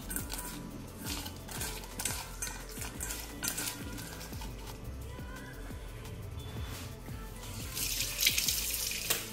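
Peeled prawns are washed in water, with soft splashing and sloshing, light clinks of a bowl and running-tap sounds, heard close and fairly quiet without talk.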